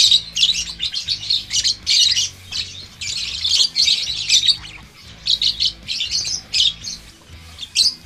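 Baby lovebirds squawk and chirp close by in rapid, shrill bursts, loud and repeated across the whole stretch with short gaps, and no talking.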